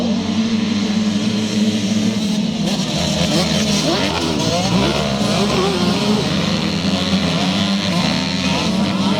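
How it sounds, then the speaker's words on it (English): Youth 125cc and 85cc big-wheel motocross bikes pull away from the start line together at a charity scramble, a loud, continuous, dense engine roar from the pack that holds steady throughout, with no pauses. "it's a turn of the young guns in the youth 125 and 85cc big wheel race"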